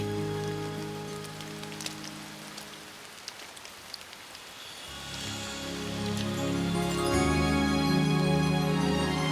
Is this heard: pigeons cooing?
no